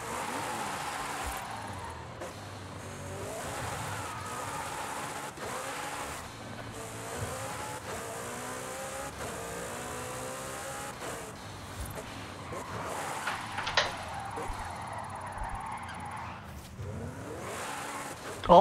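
McLaren GT 2021 in Forza Horizon 5, driven on a Logitech G29 wheel, holds a steady engine drone with tyre squeal as the car slides and spins, continuous and fairly loud throughout with a rising rev burst near the end.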